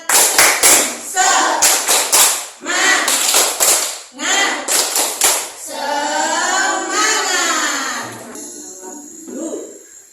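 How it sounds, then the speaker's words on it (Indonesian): A fifth-grade class in an Indonesian primary school does a rhythmic spirit clap, with loud, close bursts of quick claps in patterned groups. Children's voices chant between and after the clapping. "Tepuk semangat."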